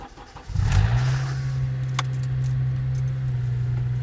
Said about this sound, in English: What is that awful noise every morning when I start my car?